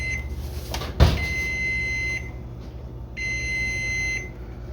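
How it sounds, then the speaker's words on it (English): A microwave oven beeper sounds while chicken is being cooked: a sharp clunk, then two long steady electronic tones about a second each with a gap between, moderately loud against quiet kitchen background. "And there's a beeper."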